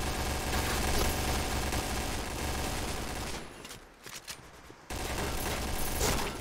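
Rapid automatic gunfire in the video game Point Blank, dense bursts of shots filling most of the clip, briefly thinning out midway before the firing resumes close and loud.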